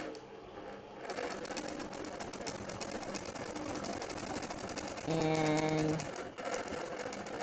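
A longarm quilting machine stitches in the ditch with a continuous, close mechanical hum and rapid needle chatter, joined briefly by a steady tonal whine before the stitching carries on.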